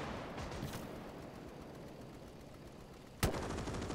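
Gunfire in the World War II strategy game Gates of Hell: Ostfront, a continuous muffled crackle of distant battle shots with one sharp, louder blast near the end.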